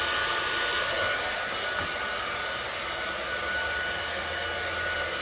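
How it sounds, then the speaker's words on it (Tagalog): A hair dryer blows with a steady, loud, unbroken whoosh and a faint high whine, running close by in a bedroom while someone gets ready, with no talking. "I-blower lang natin ang sandali at go na tayo."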